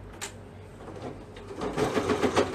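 Sewing machine stitching a seam with woolly nylon thread on children's pyjama fabric, a steady close mechanical whir that grows louder and busier toward the end, heard alone.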